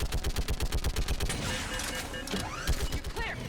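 Fast, rhythmic bursts of automatic gunfire with rocket blasts in the Mass Effect 3 video game, a dense, loud stream of shots that continues without pause.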